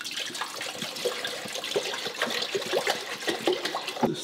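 Cold water runs from a kitchen tap in an apartment, a close, steady splashing stream with small gurgles throughout, heard alone.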